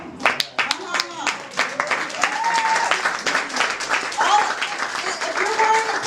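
Scattered clapping from an International Women's Day audience thickens into steady applause for the Crossing Borders and South African Embassy teams, with voices calling out over it.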